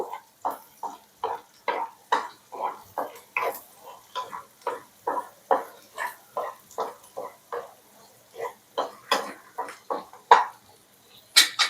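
A spatula stirring egg into big pieces in a pan for restaurant-style egg fried rice, a run of quick evenly spaced scraping clacks against the pan, close and clear with brief gaps.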